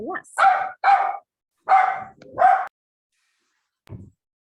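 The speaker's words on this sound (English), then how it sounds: "My dog got excited, apologies." An excited dog barks close by: four loud, sharp barks in quick succession, then a pause and one short, faint yip or whimper.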